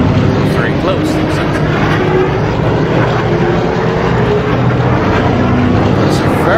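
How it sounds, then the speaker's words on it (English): Podracer engine from the racing game Star Wars Episode 1: Racer, a loud, steady, unbroken roar of dense broadband noise lasting the whole stretch, with no talk over it. "There's a very obvious repeat in this engine sound here"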